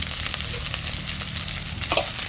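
Dried red chillies, crushed garlic and chopped onion go into hot oil, making a loud, steady crackling sizzle with small pops and a brief flare near the end.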